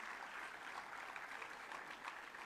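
Steady applause from an audience at an All India Council for Technical Education award ceremony, dense and even throughout, a continuous wash of many hands clapping at moderate loudness with no clear voices.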